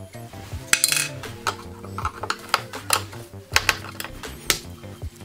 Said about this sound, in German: die Schrauben hier, hier, hier und hier entfernen